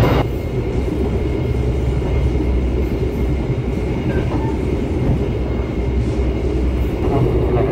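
Inside the Sembrani executive passenger train running overnight from Surabaya to Jakarta, a loud, steady rumble of the carriage fills the cabin, with rhythmic wheel clatter on the rails throughout.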